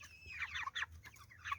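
Hatchery chickens cluck close by in short, busy, overlapping bursts, with a low hum underneath.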